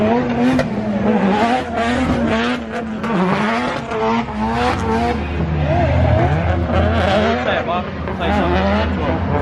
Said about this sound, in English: Got my car, Sean's car, and Stu's out on track